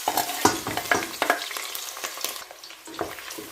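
Chopped onions fry in a generous amount of oil for jollof-style red rice, a close, crackling sizzle punctuated by repeated scraping and stirring clatters of a utensil against the pot.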